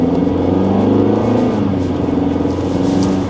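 A 2025 Nissan Altima SR pulls away from a stoplight, its engine note rising in a loud, close, continuous drone with steady low rumble, heard from inside the car.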